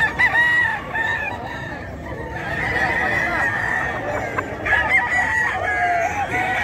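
A Sweater Gilmore gamefowl rooster crows loudly and close by at the Bocaue pet market, its long call ringing out over a din of other clucking fowl and market noise.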